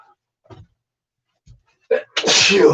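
A single loud sneeze bursts out after a few faint breaths and a quick sharp inhale, close to the microphone.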